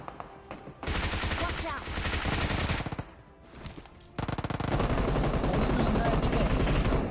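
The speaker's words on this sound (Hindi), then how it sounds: "जैसे मैं आता हूँ तो यहाँ पे मुझे कुछ फायरिंग का साउंड आता है" Gunfire in the mobile game PUBG Mobile: loud, rapid automatic bursts crackle in close succession, pausing briefly before resuming in a dense sustained volley.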